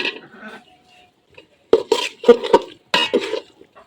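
Chopped potato and cauliflower drop into a pot of frying spices for vegetable khichuri, giving several close clattering bursts of pieces hitting the metal pot, with brief pauses between them.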